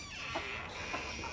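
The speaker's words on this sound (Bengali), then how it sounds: "এগুলো হচ্ছে লেয়ার মুরগি, এগুলো 4টা হচ্ছে মোরগ" Layer hens and roosters on a poultry farm cluck in a few short calls over a steady low background hum, fairly near with no talk.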